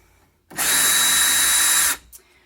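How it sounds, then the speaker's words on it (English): Power drill drilling out a doorknob on a door, one loud continuous whine of about one and a half seconds that starts and stops abruptly, with no talking. "So I'm going to be drilling this part out."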